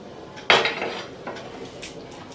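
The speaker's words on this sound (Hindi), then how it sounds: "पहले तेल को ऐसे घुमा दूंगी।" Oil is swirled in a metal cooking pan, giving one sharp clank of the pan followed by softer scraping and shuffling metallic sounds, close and fairly quiet.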